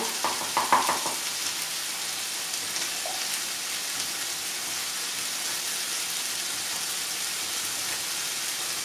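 Food in a pan bubbles and sizzles as vegetable broth is stirred through, a dense steady hiss with a few louder scraping stirs at the start, close and continuous with no voices.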